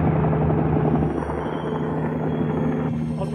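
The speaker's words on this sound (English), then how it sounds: "There's a chopper coming towards your position." A helicopter approaching, its loud rotor thump and engine whine filling the clip steadily and close, with no voices over it.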